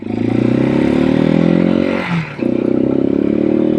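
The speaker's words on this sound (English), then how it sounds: "You got to give it a little gas, keep the engine going." A Janus Halcyon 250 motorcycle engine runs loud and close, a steady buzzing drone under throttle that briefly dips and sags before picking back up to a strong, even pull.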